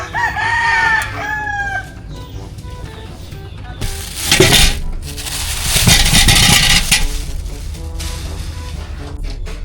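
Chickens cluck and a rooster crows close by, followed by a louder burst of rustling and crunching noise.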